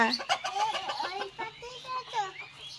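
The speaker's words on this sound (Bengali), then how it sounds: "ওই দেখো মুরগিও খাচ্ছে" Chickens clucking while eating kohlrabi leaves, a rapid series of close, bright clucks in the first half, then scattered softer clucks, with a person speaking briefly nearby.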